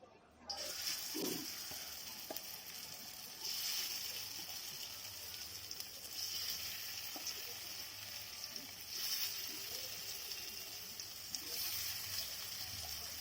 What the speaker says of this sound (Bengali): ভেজে নেব অল্প অল্প করে কম স্টিম দিয়ে যেন মুচমুচে হয়